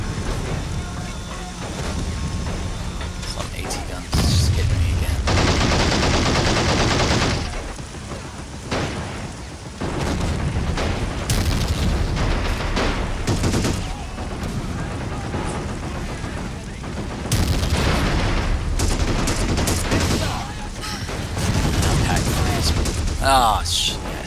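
Anti-tank gun fire in the war strategy game Men of War: Assault Squad 2, with loud booming blasts and bursts of gunfire recurring throughout amid dense battle noise, and a voice talking over it.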